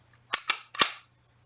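Toy gun trigger pulled with a light click, then three quick sharp snapping shots close by, each fading fast into silence.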